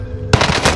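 Machine gun fire in a shooter video game bursts in suddenly after a quiet moment, a loud rapid stutter of shots.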